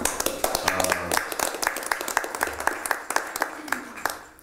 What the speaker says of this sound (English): give him applause for that